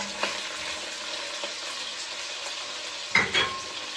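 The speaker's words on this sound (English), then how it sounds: "And I know you can hear that sizzle." Sausages frying in a hot pot give a steady crackling sizzle, punctuated by a few clinks and a louder burst of spattering as the pieces are stirred.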